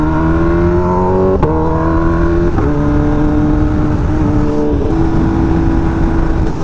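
Kawasaki Ninja H2 motorcycle ridden through Hollywood streets, its engine a steady close drone with pitch shifting up and down as it revs, continuous and loud throughout with no talk.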